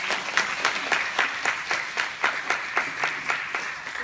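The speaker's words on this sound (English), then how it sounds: "let's give them a round of applause" An audience at a youth leadership panel at an ocean-focused summit in Washington applauds in a steady, moderately dense round of clapping that carries evenly through the whole stretch.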